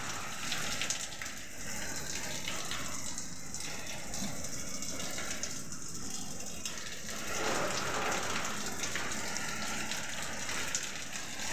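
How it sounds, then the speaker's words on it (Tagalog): Strong typhoon wind and heavy rain in Muntinlupa make a loud, steady rushing roar of downpour that holds without pause throughout, with no voices over it. "Hangin ng malakas dito sa Muntinlupa."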